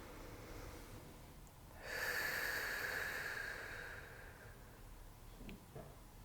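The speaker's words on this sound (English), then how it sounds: "Breathing long and deep." Long, deep breathing during a yoga stretch, a soft steady breath sound that swells into a stronger drawn-out hiss before fading, close and quiet with no talking.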